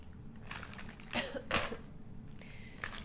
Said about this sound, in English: You might hear me cough periodically.